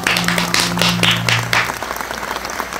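Students in the Toca Boca World game break into applause, a dense patter of clapping that starts under a speaking voice and carries on alone, fairly loud and close.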